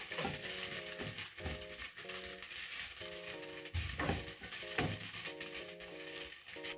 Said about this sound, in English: Then I'm going to stir in and let the onions cook until soft.